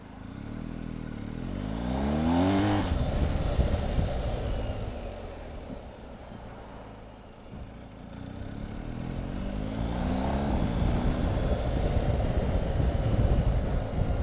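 A BMW R1250 GS boxer-twin engine drones and revs while riding, with rising gear-change sweeps early and late over steady wind and road rumble, moderately loud and close.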